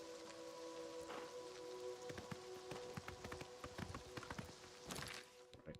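Clip-clopping horse hooves in the video game Oblivion Remastered patter along quickly under a soft rain-like wash, the hoofbeats irregular and fairly quiet.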